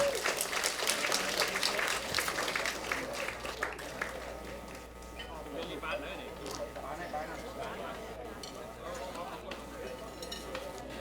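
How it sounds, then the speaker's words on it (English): Guests at a Cambodian community retirement dinner in Long Beach applaud the national anthem singers, clapping strongest at first and then thinning to a quieter, scattered patter in a large hall, with voices murmuring underneath. "give yourself as well as a big round of applause for the national anthem singer, Supa and Davi Kim"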